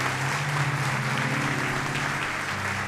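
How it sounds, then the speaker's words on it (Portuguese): Congregation applause at a Portuguese-language Sunday church service, a steady, dense wash of clapping filling the room from start to finish over a low sustained tone, with no talk on top. "Aplauda o Senhor em nome de Jesus."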